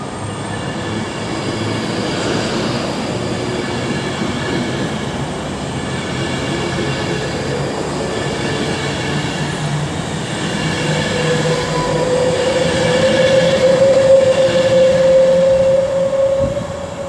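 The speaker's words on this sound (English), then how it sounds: "coming in over on platform 1 right now is the 1135 London Northwestern Railway service" A London Northwestern Railway service rolls into platform 1 at Milton Keynes Central on the West Coast Main Line, a loud, steady rumble that swells as it nears, with a sustained wheel squeal rising over the last few seconds.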